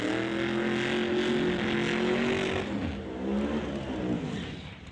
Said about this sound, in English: the turbocharged 67 Mustang out of Olympia